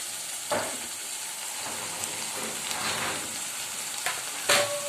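Chopped dill leaves hit oil in a frying pan and sizzle steadily at close range, with occasional scraping stir strokes and a few clinks, and no talking.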